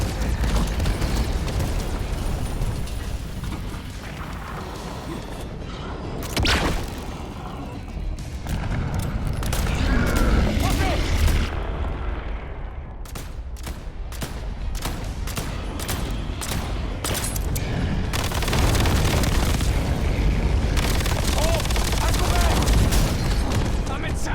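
Bomb explosions and gunfire in the video game Call of Duty Black Ops 7, a dense, continuous barrage of bursts and booms at high level, with shouted voices mixed in and a brief lull midway.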